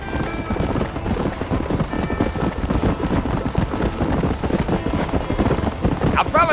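Horse hooves gallop in Red Dead Redemption, a fast, steady clip-clop rhythm running loud and close throughout, with a brief whinny near the end.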